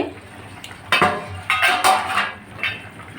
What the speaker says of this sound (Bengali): আমি এখন ডাকনাটা খুলে নিচ্ছি